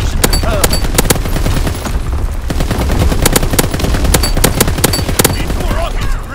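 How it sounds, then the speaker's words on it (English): Rapid bursts of artillery fire from a battery in a war video game, dense repeated blasts and rattling reports over a constant loud battle din, with faint game voice callouts mixed in. "Firing primary battery."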